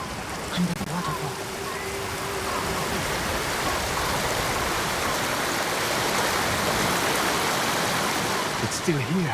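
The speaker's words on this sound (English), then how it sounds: "Under the waterfall." Steady rushing of a waterfall in Ghost of Tsushima, a broad continuous wash of falling water heard close and fairly loud throughout, with faint game sounds and a brief voice near the start.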